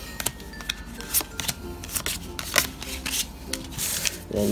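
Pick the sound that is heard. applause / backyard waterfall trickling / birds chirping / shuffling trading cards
shuffling trading cards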